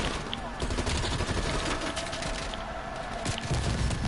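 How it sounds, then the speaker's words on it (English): Sustained automatic gunfire in the Call of Duty Cold War campaign, on realism difficulty, with dense, rapid, loud rattling shots running continuously through the whole moment. "Wait, who's shooting at me now?"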